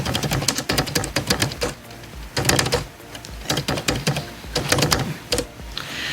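Bursts of computer keyboard keystrokes, clustered in quick runs with short pauses between, close and fairly clear, with no speech over them.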